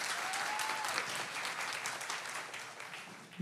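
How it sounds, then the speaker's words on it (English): A church audience applauds with a dense, continuous wash of clapping that stays fairly loud throughout and eases slightly toward the end, with no talking over it. "give her another round of applause."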